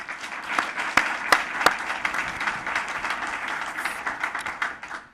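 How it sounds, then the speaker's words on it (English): Steady applause fills the room at a teacher of the year awards luncheon, a dense patter of many hands with a few sharper, louder claps standing out near the start, with no voices over it. "a big round of applause"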